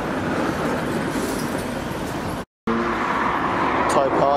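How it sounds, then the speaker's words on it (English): An old Porsche passes on a street in Weston-super-Mare, its engine and tyre noise sweeping by over steady traffic, with a short break and some nearby voices. "Old Porsche."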